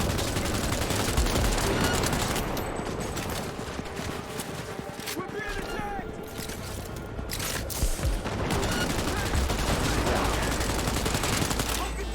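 Rapid gunfire bursts and explosions crackle through a Cyberpunk 2077 firefight, dense and continuous throughout, with a voice talking underneath the combat noise.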